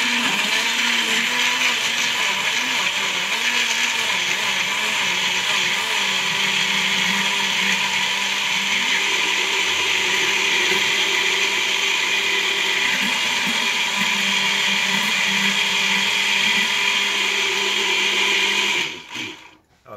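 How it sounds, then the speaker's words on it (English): A blender whirs steadily as it purées an avocado salad dressing, a loud continuous motor drone with shifting pitch that runs for about nineteen seconds before cutting off abruptly. "And then I will just blend that up."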